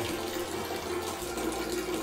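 Tap water runs steadily into a vessel during homebrew sparging, a continuous close splashing rush with no voices.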